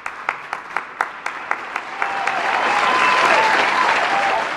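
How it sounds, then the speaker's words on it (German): Recorded applause is played in at an award ceremony: a run of separate, evenly spaced claps opens the sound, then thickens into a steady, full wash of clapping that carries on to the end. "sogar auch noch zusätzlichen Applaus, der eingespielt wird"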